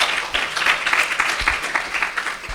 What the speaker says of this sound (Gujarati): તો સ્વામીને એક વખત તાળીઓથી વધાવીએ